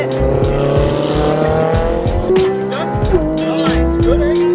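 Exotic supercar screaming around a race track under hard acceleration and heavy braking, engine pitch climbing and dropping through gear changes with tyres squealing, loud and close, while an instructor talks over it.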